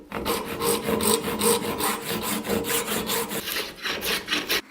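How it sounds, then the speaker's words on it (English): Maple stock being ripped to 7/8 inch with a saw, a loud, close, continuous rasping of rapid rhythmic strokes that runs steadily without pause. "We'll rip our stock now to 7/8 of an inch."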